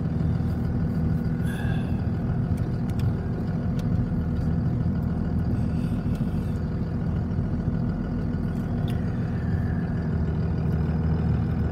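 A truck engine in a farming video game hums and idles steadily at a medium-low pitch, climbing a small hill on the way to feed heifers, with faint clicks and tones over the constant drone.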